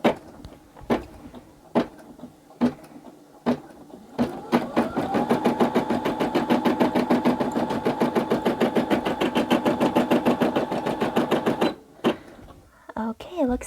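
A Brother sewing machine stitching in a fast, even mechanical rattle for several seconds, close and clear, after a few separate clicks and knocks as the machine is handled.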